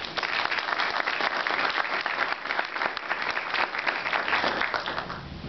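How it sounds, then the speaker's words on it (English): Steady audience applause at a conference address, a dense wash of many hands clapping at full strength throughout, honoring sponsoring firms such as McCormick Taylor, URS and McMahon Associates. "We'd all give them a round of applause."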